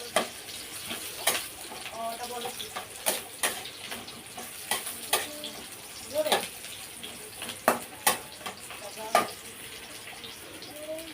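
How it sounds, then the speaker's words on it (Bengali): Potatoes and onion fry in a pan, with a faint steady sizzle and intermittent sharp clinks and scrapes of stirring in a quiet kitchen. "আলুটা লাল লাল করে ভাজা হয়ে গেছে এখন দিয়ে দিলাম পেঁয়াজ"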